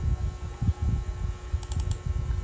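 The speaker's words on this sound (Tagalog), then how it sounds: "this time is i-check naman natin itong keyboard." Keystrokes on a Dell laptop keyboard, an affordable student model, clatter in an irregular run of soft, close taps, with a few brighter clicks near the end and no voice.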